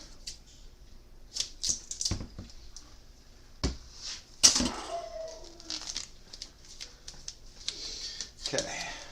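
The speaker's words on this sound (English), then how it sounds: "Get our scissors." Scissors snipping material while finishing the wing of a Proxy clone model aircraft build, a few short crisp cuts and rustles close by, with talk over the top.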